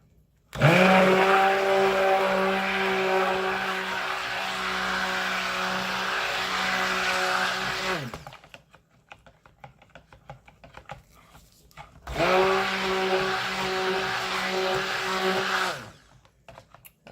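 Stick blender whirring loudly in cherry blossom scented soap batter, two long continuous bursts of steady motor drone with a pause between them.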